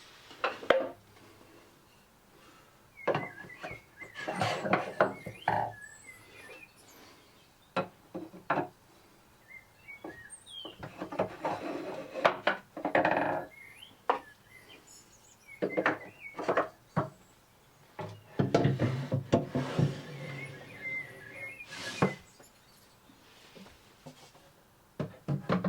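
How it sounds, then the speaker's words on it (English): A heavy jeweler's workbench is flipped over, giving a series of scattered wooden knocks, thumps and scrapes at close range with quiet pauses between the bursts. "you might want to get a friend to help you just flip it over and move it into its final position"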